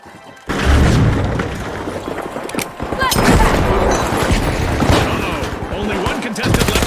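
Cargo grenade in the shooter game The Finals going off in a loud, sustained barrage of booming blasts and gunfire-like cracks after a brief quiet start, dense and close throughout.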